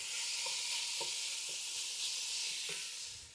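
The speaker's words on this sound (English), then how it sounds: "now we're gonna put our ground pork in here and get that cooked up" Ground pork sizzling steadily in a hot pan, a dense continuous frying hiss with a few soft clicks of stirring, close and alone with no talking.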